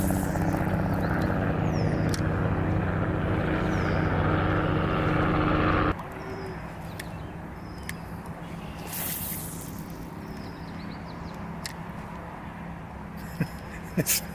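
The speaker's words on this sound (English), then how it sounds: "I hear a helicopter" A helicopter drones overhead while someone kayaks on the water at Long Sault. The steady, loud rumble holds for several seconds, then abruptly drops to a fainter, distant hum over quiet outdoor ambience.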